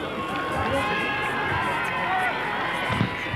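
Tinahely supporters applauding a player leaving injured at a 1984 hurling final against Valleymount, steady crowd clapping and cheering at a distance, continuous with some voices mixed in.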